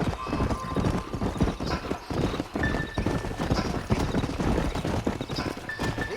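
Horse hooves clip-clop steadily through the Old West setting of the video game Red Dead Redemption, with snorts and a whinny over dense ambient background, continuous and fairly close throughout.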